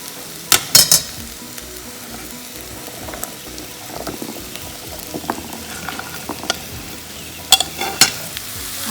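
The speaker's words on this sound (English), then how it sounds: "It's very important to get the potatoes little bit fried." Potatoes and mixed vegetables sizzle and crackle in hot oil for a soya chunk biryani, with a steady frying hiss and sharp bursts of scraping and clinking as they are stirred near the start and end.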